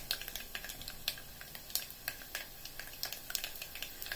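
Onion pieces sizzling with frying peanuts in a pan, a quiet steady sizzle broken by irregular crisp ticks and pops, with faint scraping as the mixture is stirred, no talk.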